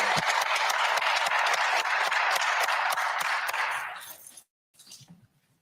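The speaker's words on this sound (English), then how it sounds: "Give her a big round of applause." A crowd at a press conference applauds steadily for about four seconds, the clapping fading out before a brief pause and a faint voice at the end.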